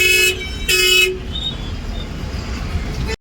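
Horns honk in a traffic jam on a highway in Haryana, heard from a sleeper bus: two long, loud toots in quick succession, then a steady low road rumble.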